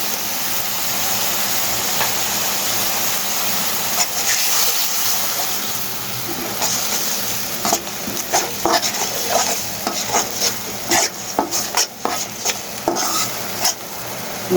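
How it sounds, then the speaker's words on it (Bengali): Spice paste with ginger garlic paste sizzles steadily in a pan, with a constant frying hiss and intermittent scraping, stirring clatters growing more frequent toward the end. "মশলাটাকে আমি কষিয়ে নিচ্ছি"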